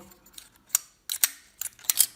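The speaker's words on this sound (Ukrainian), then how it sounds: "Затвор з сенсором спалаху." Plastic disposable film camera with flash sensor, its shutter mechanism clicking. Several sharp, dry clicks come in irregular pairs up close, with no talking.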